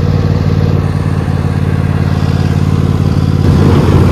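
A Cub Cadet XT1 LT 46-inch riding lawn mower runs with its engine very close and loud, a steady, throbbing low rumble with mechanical clatter that holds constant throughout, with no voices over it.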